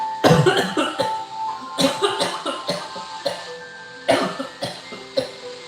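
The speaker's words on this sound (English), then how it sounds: "I don't know why I keep coughing" A person with allergies coughs again and again in short, harsh bursts that come in irregular clusters, close to the microphone.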